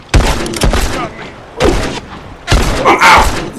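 Bolt-action rifle shots in The Last of Us multiplayer, several loud sharp reports spaced about a second apart, with players talking over the gunfire.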